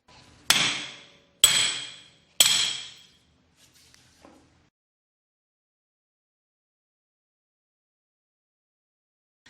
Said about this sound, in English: Attach a spanner to the reverse cone, loosen with a large hammer, and take it off.